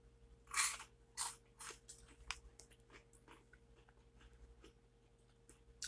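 Buc-ee's Beaver Nuggets, a sugar-coated puffed snack, are bitten and chewed close up, giving a few sharp crunches at first and then softer, irregular chewing.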